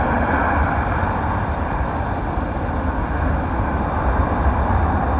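A US Air Force F-35 fighter jet at RAF Lakenheath produces a loud, dense, sustained engine roar, close and overpowering, holding at full intensity from start to finish with no voices over it.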